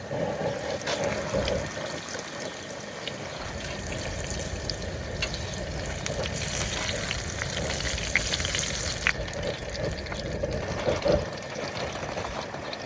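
Tortilla chips fry in hot oil with a dense, steady crackling sizzle that swells at times, close and continuous, with no voices.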